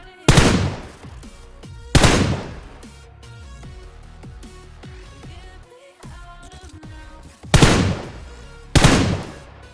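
Gunfire in the mobile battle royale game BGMI: several loud, sharp bursts of shots, two near the start and two near the end, with quieter in-game sounds and scattered shots between them.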